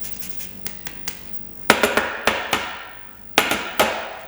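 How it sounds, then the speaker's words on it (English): Zesting an organic, unwaxed lemon for a quick raw salad: a run of sharp, close scraping strokes, light and quick at first, then louder with short pauses between them, and no talking. "we're going to get some lemon zest in there for this one"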